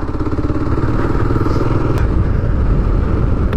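Motorcycle riding along a gravel road, a steady loud engine drone with low rumble and faint crunching clatter throughout, with no one speaking.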